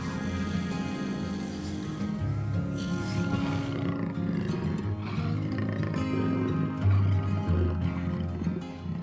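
A jaguar in the Cerrado savanna lets out deep, rumbling roars, close and powerful, rising in bursts over a continuous low growl with a soft musical bed underneath.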